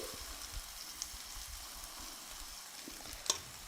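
Batter poured onto a tawa with a little hot oil over a very low gas flame gives a faint, steady sizzle with soft crackles and one brief sharper pop near the end, with no talking.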